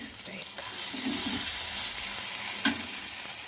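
Tomatoes and onions fry in a pan for an evening meal, giving a steady close sizzle with soft stirring scrapes and one sharp clink near the end.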